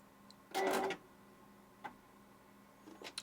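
A sewing machine switching on into service mode, with a brief whirring mechanical burst followed by a few small clicks and beeps in a quiet room.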